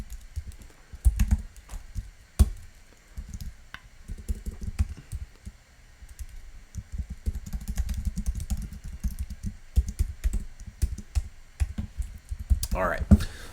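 PHP code is typed on a computer keyboard, with irregular runs of close, soft key clacks and short pauses, and a louder scrape near the end.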